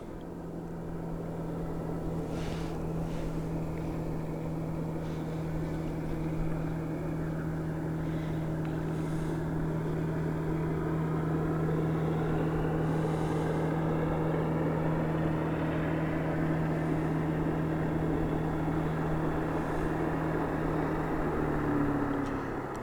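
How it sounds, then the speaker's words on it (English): A loud, steady old motorboat engine drones continuously with a low rumble and rough, throbbing hum, close and unbroken for the whole stretch. "It's like just a basic old motorboat. It's just loud."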